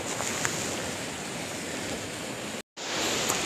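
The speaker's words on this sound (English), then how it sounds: "So now finally we are near that waterfall in between that rocks and the mountains." Steady, broadband rushing of a waterfall among rocks and mountains in Ha Giang, Vietnam, fills the clip, loud and constant, with a brief dropout near the end.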